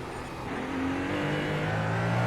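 A hypercar in a racing video game streaks past with a rising engine whine and a pitch shift over roaring broadband road noise, loud and close throughout the short stretch.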